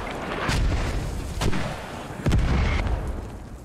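Mortar shells explode in the military shooter Squad: three heavy, booming blasts land about a second apart over a dense, rumbling battlefield backdrop.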